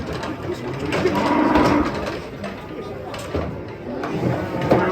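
A masked, agitated cow being unloaded from a truck lows nearby over background noise, with people talking around it.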